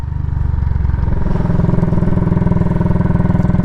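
Royal Enfield Classic 500 motorcycle with a roughly 27 horsepower single-cylinder engine, a loud, close, steady thumping idle with an even pulsing beat and slight rise in pitch.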